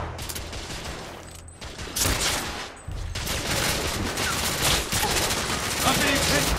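Gunfire in The Order 1886 video game: dense, overlapping bursts of shots and rapid fire, loud and continuous across the whole stretch, with battle voices mixed in.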